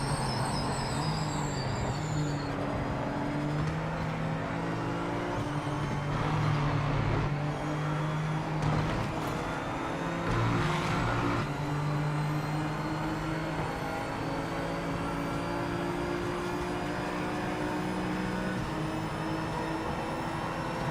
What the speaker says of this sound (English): trying to power out of a kind of tightish corner with a heavy car